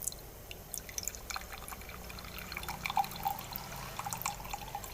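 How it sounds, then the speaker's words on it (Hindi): Water from an RO purifier's tap runs into a glass, a steady light trickle with scattered splashy drips, close and fairly soft, no voices. "अब दूसरे गिलास में अब हम लेते हैं पानी"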